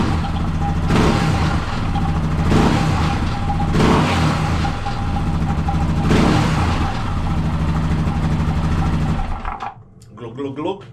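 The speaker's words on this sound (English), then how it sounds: "It's the oil gurgling coming out of here." A Yamaha XT660 motorcycle idles close and loud while engine oil gurgles out of its frame, with a rhythmic throb that cuts off near the end, leaving faint handling noises.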